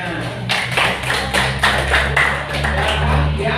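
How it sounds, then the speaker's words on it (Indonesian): Students clapping together in a classroom during a primary-school debate, a short burst of rapid, close applause lasting a few seconds with no talk over it. "Tepuk tangan buat yang mau tanya"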